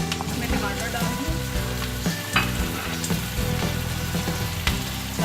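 Onions, tomatoes, garlic, ginger and spices fry and sizzle steadily in a hot pan, with stirring scrapes and clatters throughout, loud and close with no talking.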